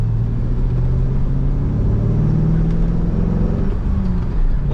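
A 1998 Chevrolet Corvette with a cowl hood drives along, its engine a steady, close rumble with a slight rising whir, heard alone without speech.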